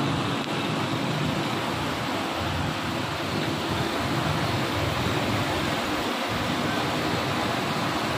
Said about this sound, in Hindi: बहुत ज़बरदस्त बारिश हो रही है